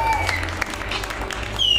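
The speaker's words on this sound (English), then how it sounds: "Give them a round of applause, come on." Crowd applause and cheering right after a fight at a live event, a steady loud wash of clapping and crowd noise over low rumble, with a louder surge near the end.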